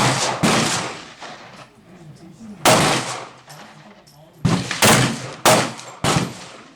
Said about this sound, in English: we're going to hit the top target with the 1911